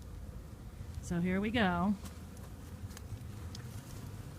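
A honey bee swarm in a Denver backyard buzzes as a steady, dense hum throughout, with a person speaking briefly over it.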